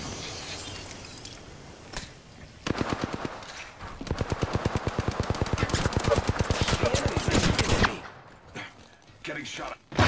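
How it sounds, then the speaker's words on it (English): Sustained rapid automatic gunfire rattles in a long, evenly spaced burst during an Apex Legends match, preceded and followed by scattered single shots and game voice lines. "Getting shot at."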